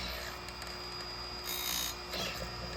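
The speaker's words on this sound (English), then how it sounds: "start grinding rakers" A powered grinder steadily whines as it files down the rakers on a chainsaw chain, a continuous close mechanical hum with brief rises in pitch as the wheel contacts the metal.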